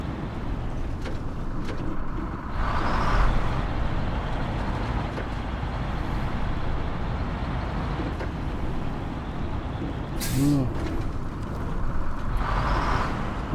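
A heavy truck rumbles and slides forward through snow in the SnowRunner video game, a steady engine drone with brief hissing bursts, no talking.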